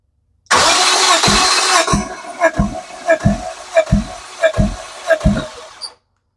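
A Lexus engine cranks during a cylinder compression test, the starter turning it over in a loud, steady rhythmic chug of about nine even beats that slows slightly before stopping, with no talking.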